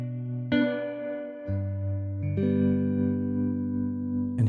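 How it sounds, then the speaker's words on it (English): Electric guitar chords played through a spring reverb, each strum ringing out with sustained, slightly washy tails, a few chord changes over a steady bed of tone, close and clear with no talking. "The spring reverb sounds very authentic as well"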